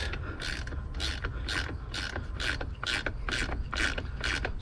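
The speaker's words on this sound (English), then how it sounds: "take your 15 mil ratchet wrench in, put your box end on there, crank this guy loose" A 15 mm ratchet wrench loosens a bolt near the brake fluid reservoir on a 1982-92 Camaro, giving about ten crisp, evenly spaced ratcheting clicks at close range over a low background hum.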